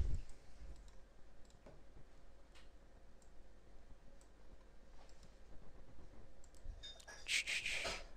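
A computer mouse is clicked a few times, faint sharp ticks scattered over quiet room noise, with a brighter burst of clicking near the end.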